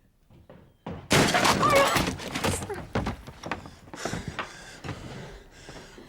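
A wooden door is forced in with a loud crash and splintering impact, followed by clattering, thudding debris and scuffling in a period drama scene.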